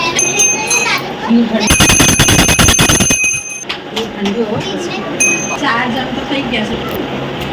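A small bell rings rapidly for about two seconds, bright and metallic, with voices and household clatter around it.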